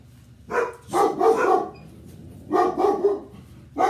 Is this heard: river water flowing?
no